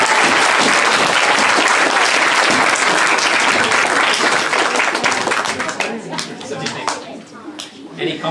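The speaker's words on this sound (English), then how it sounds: "Can we have a round of applause for Zara?" Warm applause from an audience at a school arts showcase, loud and dense at first, then thinning into scattered individual claps near the end, with a few voices murmuring underneath.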